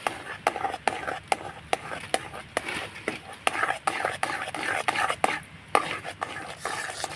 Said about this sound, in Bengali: এবার নাড়াচাড়া করে আমি একটু গরম করে নেব তালের কাঠটাকে